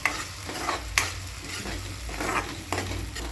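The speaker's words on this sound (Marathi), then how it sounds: "आपण त्याला अद्रक कोथिंबीरची पेस्ट घालूया" Ginger and coriander paste stirred and sizzling in hot oil over golden fried onions while making Marathi batata bhaji, a steady frying hiss broken by a few sharp spoon scrapes against the pan.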